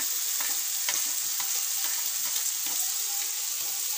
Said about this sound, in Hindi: ये हमारा भुना रहा है